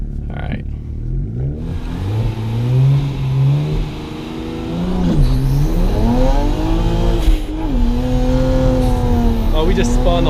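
A twin turbo BMW 335i with traction control off launches hard from a stop, the engine revving up through climbing gear pulls with tire wheelspin, loud and close from inside the car, with a voice speaking briefly.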